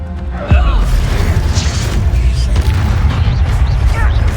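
An Expulsion spell blast in the video game Hogwarts Legacy lands as a sudden loud boom, then rumbling debris and clatter under dense combat sound.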